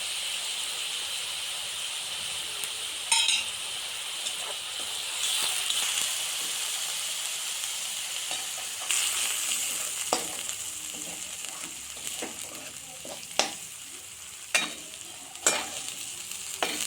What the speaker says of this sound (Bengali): পেঁয়াজটা দিয়ে দিলাম, পেঁয়াজ রসুন আর কাঁচা লঙ্কা দিয়ে দিলাম